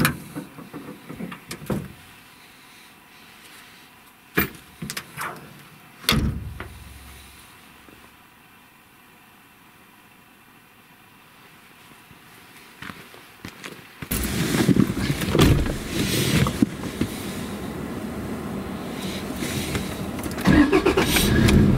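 A car pulls away down a rural driveway on a rabbiting outing: quiet clicks and a door at first, then the engine rises into a loud, steady rumble of driving.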